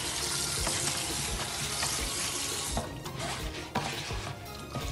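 Fresh tap water runs steadily and splashes loudly while conch is rinsed for Haitian lambi, with a continuous close rush and a few sharper splashes and no talk.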